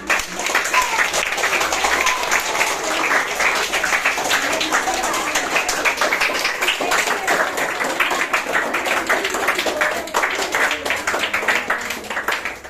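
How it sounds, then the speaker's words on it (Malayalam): Schoolchildren and their teachers clap together at a New Year celebration in Kollam, a dense, sustained round of applause filling the room for the whole stretch without letting up. "ക്ലാപ്പ് ചെയ്തോ, ക്ലാപ്പ് ചെയ്തോ."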